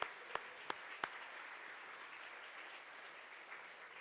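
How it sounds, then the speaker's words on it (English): Gala audience offering soft, distant applause, a few sharp claps up front then a faint, even patter of many hands in a large room. "Can we please give them a round of applause for continuing to support this organization?"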